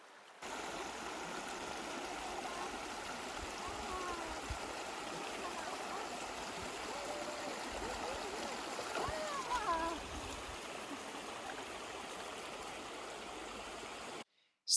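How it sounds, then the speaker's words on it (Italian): A small stream near Lake Garda rushes steadily for about fourteen seconds, a dense, even wash of water close by, with faint splashes partway through and no break in the flow. "Qui c'è anche un ruscello dove la Hope zampetta allegra."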